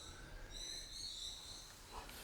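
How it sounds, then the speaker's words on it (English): Several birds chirp and trill outdoors at a quiet, steady level, their high calls layered over one another with no talk. "You hear those birds? There's so many birds going here."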